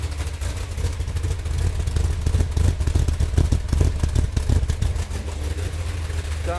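A Chevy 454 V8 with a solid lifter cam runs on an engine stand, with a steady, loud, close rumbling idle and a fast, choppy pulse throughout.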